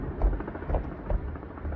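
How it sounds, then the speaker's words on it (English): A Hennepin County sheriff's helicopter circles over a No Kings Day protest in Minneapolis, heard as a steady low rotor thump at moderate distance with faint crowd ambience and no talk. "I'm hearing a helicopter."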